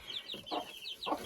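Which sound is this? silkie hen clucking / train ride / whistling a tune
silkie hen clucking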